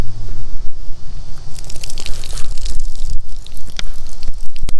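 Water squirted from a bottle to flush an eye after pepper spray exposure, a close, loud run of wet splashing and dripping with squishy bursts that comes and goes irregularly.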